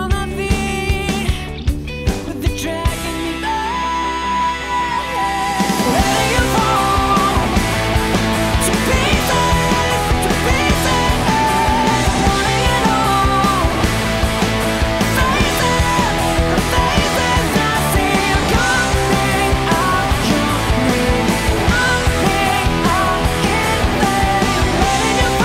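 A recorded guitar part played through an Orange amp model on a Positive Grid Spark sits within a dense, loud full-band mix with steady drums, opening with a few sparse hits before the full groove kicks in and continues unbroken.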